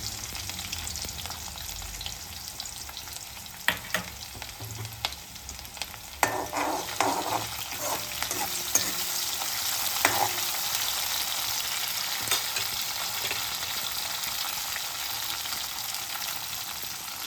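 Green chili and ginger sizzle steadily in hot oil in a pan for a dhaba-style dal fry, with a continuous crackling hiss and a few scraping stir clatters partway through.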